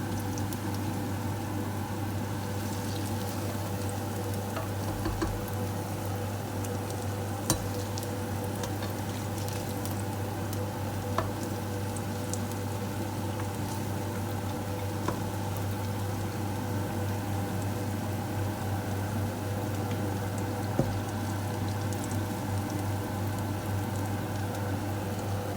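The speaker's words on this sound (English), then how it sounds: "while the pakoras are frying." Pakoras frying in oil, a faint steady bubbling sizzle with a constant low hum beneath and occasional small ticks and pops, quiet and continuous without speech.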